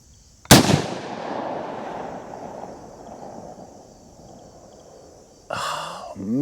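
A .30-30 rifle round is fired into ballistic gel outdoors, producing a single sharp, loud report followed by a long rolling echo that slowly fades, then a burst of handling noise near the end.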